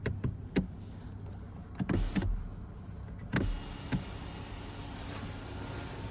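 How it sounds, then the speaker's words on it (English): Motorized glass roof sunshade moving inside a 2023 BMW 740i, a soft electric whir with a few clicks and thumps from the cabin. "I'm used to the sunshade going back towards the back of the vehicle"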